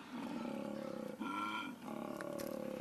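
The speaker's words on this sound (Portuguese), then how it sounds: "o koala macho, ou o buck, como chamam os australianos, emite um som que o ajuda a projetar seu chamado de acasalamento." A male koala in the Australian wild bellows its mating call, a deep, rasping, continuous grunting roar that shifts into a more tonal, droning stretch midway, loud and close, with no voices.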